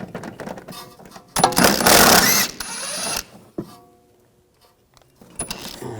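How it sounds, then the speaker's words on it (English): Ratchet with a 16mm socket working loose the rear shock mount bolts on a 2011-2018 Volkswagen Jetta, giving bursts of close mechanical clicking and clatter with louder metallic rattling in the middle, then quiet pauses. "Now we're going to take the two bolts out where the mount is. Use a 16mm socket."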